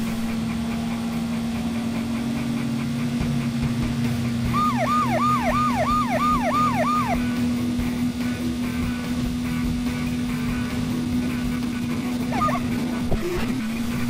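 Police vehicle siren in the driving game Driver 2, a rapid wailing yelp cycling several times over a steady engine hum, then a brief chirp near the end.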